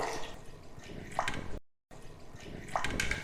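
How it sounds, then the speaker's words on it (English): Water is poured onto almonds in a blender or bowl while preparing a vegan chocolate milkshake, a close, steady splashing stream with small drips, briefly interrupted by a silent gap. "So adding a little water."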